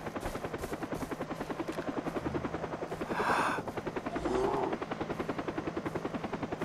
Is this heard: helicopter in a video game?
yes